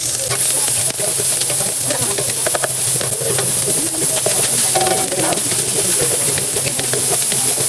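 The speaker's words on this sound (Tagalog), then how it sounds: "pag mainit na po yung mantika, lagyan na natin itong bawang at sibuyas" Garlic and onion hitting hot cooking oil, a loud steady hiss and crackle that fills the whole stretch without pause, close up, with faint background noise.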